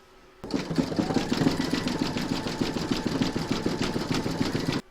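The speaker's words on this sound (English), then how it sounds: "Pop your hoop back into your machine, and that's going to stitch round number 7, and that's going to zigzag along this join" An in-the-hoop embroidery machine runs a zigzag stitch along a join on a stacked snowman design, a fast, even mechanical whir with rapid needle clatter that starts abruptly and runs steadily before stopping.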